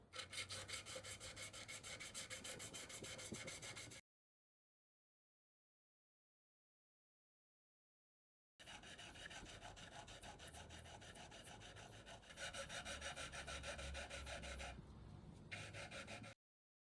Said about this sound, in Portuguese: vou pegar uma base com uma lixa mais abrasiva para conseguir fazer esse trabalho inicial nesse formão